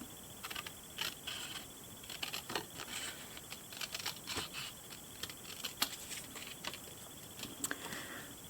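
Scissors snipping paper to trim a small doll magazine cover, a string of quiet, irregular clicks and crisp cuts with light paper rustle, close to the microphone and without voices.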